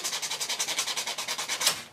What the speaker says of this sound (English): I take a little 150 grit sandpaper and roughen up the aluminum glue tabs